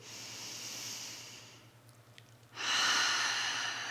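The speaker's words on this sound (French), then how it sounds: "Dernière respiration pleine ici." Slow, deep breaths in a yin yoga pose, a long airy exhale followed by a quieter pause and then a strong, close inhale, over a faint low hum.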